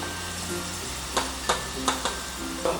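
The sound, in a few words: okra (bhindi) frying in oil on high flame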